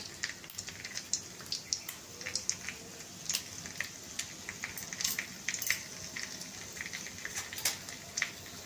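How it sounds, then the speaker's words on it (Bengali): Dried red chilies crackle and sizzle in hot oil with cinnamon, cloves and cardamom, a steady close frying hiss dotted with sharp pops and spits throughout, no voices. "শুকনো লঙ্কা দিয়ে দিলাম।"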